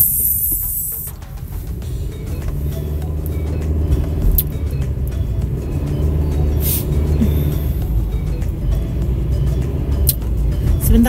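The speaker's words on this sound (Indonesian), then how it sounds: "Nah ini ada school bus." A school bus rolls past on a city street in late afternoon, its engine making a steady low rumble that swells and holds as it passes close by, with no talking.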